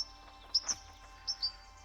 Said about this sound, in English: The birds are talking to me.